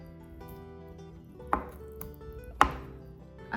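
A knife slices through homemade tofu with two distinct, sharp cuts against a board, each hitting cleanly over quiet background music.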